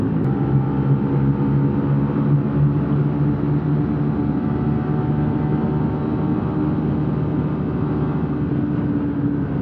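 A Honda RS-X motorcycle rides along a road and drops gears, its engine giving a continuous, loud, close drone with steady road and wind rumble.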